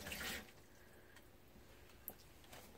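Blue-dyed water poured into the dry basin of a Laveo dry flush toilet, a brief soft splash at the start, then quiet trickles and a faint drip, very low in level.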